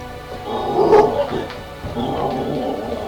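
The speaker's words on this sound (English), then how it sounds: "This is my dog about to start barking at something or other." A dog barks and yips nearby in a few loud, uneven bursts with some whimpering between them, and no talking over it.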